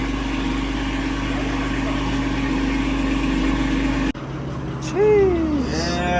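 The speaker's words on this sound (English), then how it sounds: "Dude, your car's hella loud." A 1,000 HP BMW M4 engine runs loud and steady as a dense low rumble, then the tone shifts abruptly partway through, with voices rising over the engine noise near the end.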